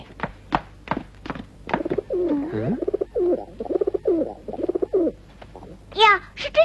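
A small pigeon coos outside a window in short, soft repeated calls, with brief chirpy notes and a few faint thumps, close by and mostly on its own.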